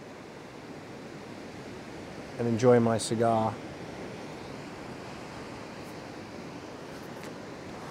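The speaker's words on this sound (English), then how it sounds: "I just want to listen to that sound of the waves" Ocean waves wash steadily onto a beach as a soft, continuous hiss of surf, with a brief spoken phrase from a nearby voice over it midway.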